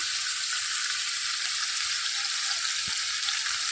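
A paste of cashews and raisins with turmeric being stirred in a frying pan gives a steady, loud hiss of frying that runs unbroken throughout, with faint scraping underneath.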